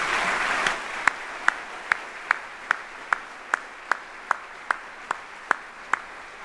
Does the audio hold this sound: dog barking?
no